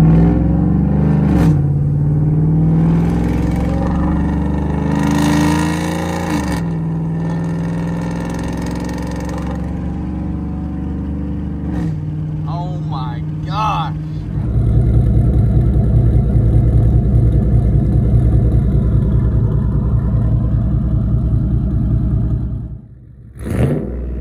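A 5.3 V8 with a new exhaust revving hard, close and loud, the pitch sweeping up and dropping at each gear shift, then settling into a deep, rumbling steady run before cutting off briefly near the end.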